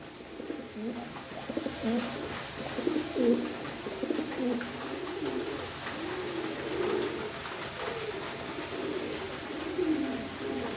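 Racer pigeons coo repeatedly in a low, throaty rhythm, several birds overlapping close by against a steady background hiss, with no talking.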